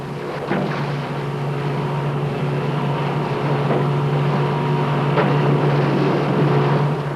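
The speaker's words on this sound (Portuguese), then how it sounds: "fazer soar na piscina o barulho de um barco a motor" Recorded motorboat engine noise played into a pool for an experiment with whales, a steady droning hum with a low tonal whine that holds evenly throughout, loud and continuous without speech.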